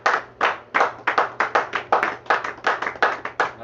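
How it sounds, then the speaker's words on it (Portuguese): A church congregation clapping in unison, about fifteen crisp, evenly spaced claps in a quick steady rhythm, close and clear with no voices over it. "E as palmas bem alegres para Jesus."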